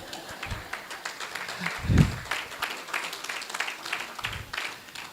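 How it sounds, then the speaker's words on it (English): An audience at the inaugural Green Indaba conference in Eswatini claps in a scattered, moderate round of applause, with a few louder thumps mixed in, fairly distant. "I think I also need a good round of applause"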